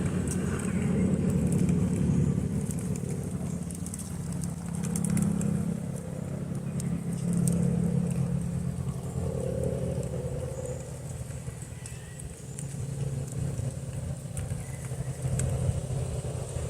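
Steady roar of highway traffic about 60 to 70 yards away, a continuous broad rumble that swells and eases as vehicles pass, with no pauses.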